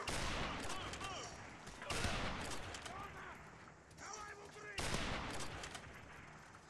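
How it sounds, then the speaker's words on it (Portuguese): Sniper rifle fire from an R700 in Call of Duty Modern Warfare Remastered, with three loud, sharp shots at roughly even intervals, each trailing off in a reverberant tail, with background game sounds and no talk. "a gente vai usar a única arma, que é a R700, que é uma sniper"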